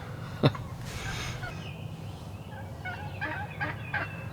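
Short, raspy wild turkey hen calls repeat in uneven bursts over steady low outdoor rumble, with one sharper call near the start; no talking.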